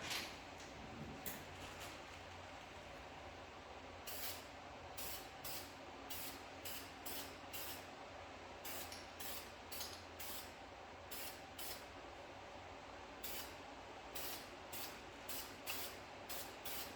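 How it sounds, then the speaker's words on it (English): High-heat primer sprays from an aerosol can onto brake calipers of a 2019 Nissan Maxima SL, heard as a series of short, repeated hissing bursts over a steady background hum. "you want to spray it like you're spray painting"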